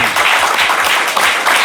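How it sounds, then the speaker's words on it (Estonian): A comedy quiz show audience gives a short burst of dense, loud applause, steady throughout, with no talk over it. "Teeme väikse aplausi kõigepealt sinisele tiimile."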